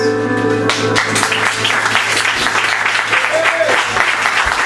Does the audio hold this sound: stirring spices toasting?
no